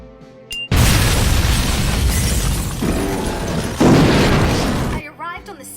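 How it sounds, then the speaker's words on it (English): A loud, sustained explosion in an English-dubbed Code Breaker anime episode, a broad roaring blast lasting several seconds, with a second surge midway, then cutting off abruptly. "Another explosion."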